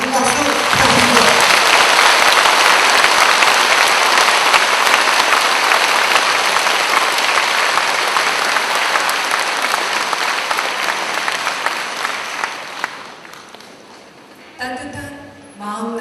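A congregation at a Saturday Buddhist service claps in a big, sustained burst of applause that slowly thins and fades out, followed by a speaking voice near the end.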